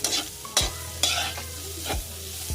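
Fish frying in a pan for mixed fish escabeche, with a steady sizzle and several sharp clanks and scrapes of a utensil against the pan spaced through the clip.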